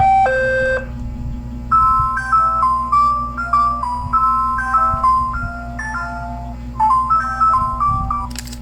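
Ringtone-style jingle from a Nestle or Selecta ice cream advertisement, a quick chiming melody of repeated short electronic notes in a bouncy rhythm, fairly loud over a constant low background hum.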